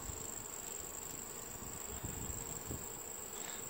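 Honey bees hum steadily at the front of a hive, a constant close buzz that sometimes swells slightly, with a faint cricket-like chirr behind it and no speech.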